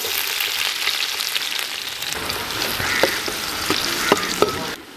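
Onions with curry leaves frying in hot oil in a pan for a Tamil-style prawn gravy, a steady close sizzle with occasional louder crackles and stirring clicks, no voices.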